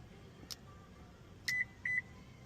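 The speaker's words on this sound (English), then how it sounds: "And you heard that beep. So this remote is programmed." A 2024 Toyota Corolla gives short electronic beeps while a remote key is programmed: a faint chirp, then two slightly longer tones close together, in a quiet interior.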